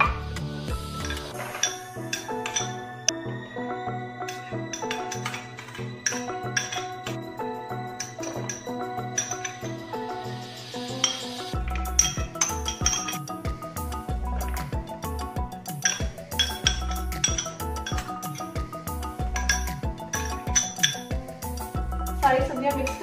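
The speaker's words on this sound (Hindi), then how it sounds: "सारी सब्जियों को मिक्स कर देंगे।" Chopped vegetables tossed together in a bowl for Ramadan chicken and mixed-vegetable pakoras, giving repeated clinks, taps and clatters against the bowl in an irregular rhythm, close and fairly loud, with background music underneath.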